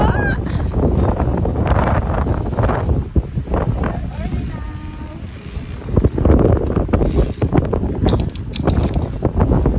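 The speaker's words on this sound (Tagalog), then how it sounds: "Malakas ang hangin." Strong wind roars across the Sellano Tibetan bridge in rain, loud gusts buffeting the microphone throughout while people talk over it.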